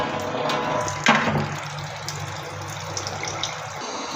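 Water pours steadily onto dried fish during home cooking, opening with a sharp splash and then settling into a continuous gentle running flow, close and moderately loud.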